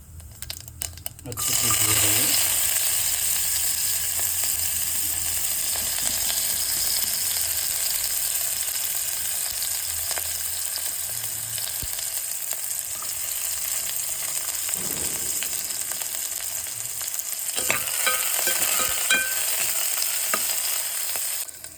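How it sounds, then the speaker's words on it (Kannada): Cumin and mustard seeds splutter in hot oil, then onions fry with a loud, steady sizzle and scattered crackles and pops, close up, with occasional stirring clatter, and no talk over it. "ಸ್ವಲ್ಪ ಜೀರಿಗೆ ಹಾಕೋಣ ಸ್ವಲ್ಪ ಸಾಸಿವೆ ಹಾಕೋಣ ಯಾವಾಗ ಚಿಟಾಪಟ ಅಂತೋ ಆ ಟೈಮಲ್ಲಿ ಈರುಳ್ಳಿ ಹಾಕೊಂಬಿಡೋಣ"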